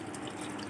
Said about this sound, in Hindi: तकरीबन आधा कप पानी डाल देंगे इसमें।